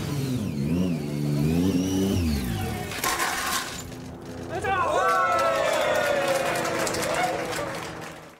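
A heavy motorcycle weighing close to 200 kg revs hard during a stunt riding show, its pitch sweeping up and down in repeated bursts, close and loud, with a person talking over part of it.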